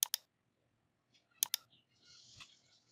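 Sharp, quiet computer mouse clicks, two quick pairs separated by a pause, heard close up with light background noise afterward.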